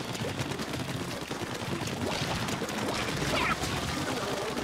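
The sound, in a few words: gunfire from weapons in the video game Splatoon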